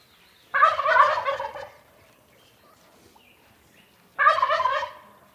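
A male tom turkey gobbles twice, each a loud, rapid rattling burst lasting about a second, with a quiet pause between them and no one talking.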